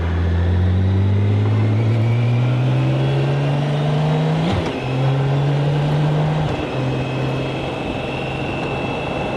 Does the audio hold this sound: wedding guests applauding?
no